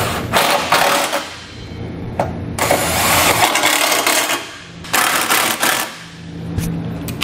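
Hardware on a trailer hitch receiver being fitted to a 2014 Chrysler Town and Country is tightened with a socket tool, in several loud, close, buzzing mechanical bursts separated by short pauses.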